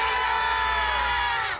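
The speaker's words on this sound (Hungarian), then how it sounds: "Mindenütt önfelett foci drukkerek." A large crowd of football fans cheers at a stadium in Australia, a dense, sustained roar of many voices with shouts and whoops, loud and continuous throughout.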